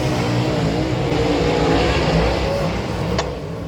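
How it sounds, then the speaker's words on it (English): Race cars pull out onto a dusty dirt track, their engines a broad continuous roar with rising and falling revs, fairly close, with a short sharp click near the end. "this is what it looks like when the cars first start pulling out"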